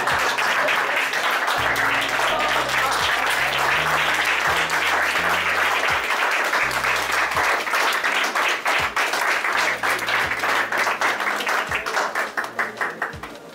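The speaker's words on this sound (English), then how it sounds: "give a big round of applause" Loud, sustained audience applause with dense rapid clapping, a low hum or music underneath, fading slightly near the end.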